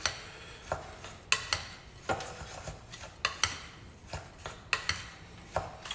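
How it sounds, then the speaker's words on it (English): Spoon scraping and clinking against a bowl while stirring a biscuit base with melted butter for a cheesecake, a steady rhythm of about a dozen close, crisp scrapes and taps. "to give it a real good stir, actually, because you want that butter to coat all the way around"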